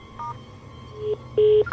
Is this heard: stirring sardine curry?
no